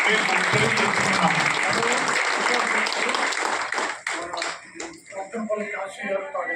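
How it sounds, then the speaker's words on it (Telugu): An audience at a Nai Brahmin welfare association matrimonial event applauds an elected member, dense sustained clapping from many hands that thins into scattered individual claps toward the end. "మీ అందరూ చప్పట్ల ద్వారా అభినందన తెలియజేయాలని చెప్పేసి మేము తెలియజేస్తున్నాం"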